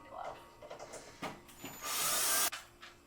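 Screws being backed out of the rear panel of an Avid Armor Cellar Series Reserve chamber vacuum sealer, heard as brief close scraping and tool sounds, one longer grinding burst near the end, in a quiet room.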